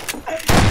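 Gunfire in the Prop Hunt video game, a short burst of loud shots at close range with a rapid fusillade at the end.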